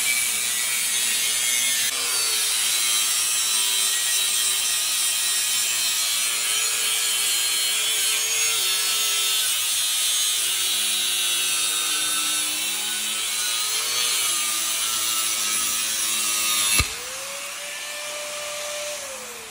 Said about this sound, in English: Cut that pipe.